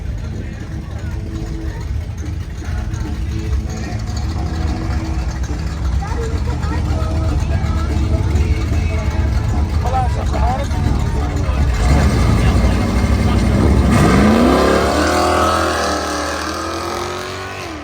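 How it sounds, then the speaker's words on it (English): A Jeep Trackhawk races down a drag strip, its engine roaring loud and steady, then swelling and sweeping past near the end, under continuous commentary from an announcer. "Ashton Kears with that Jeep Trackhawk. Sitting in the overdrive lane. Don't be too surprised that grocery getter can get down the track pretty fast."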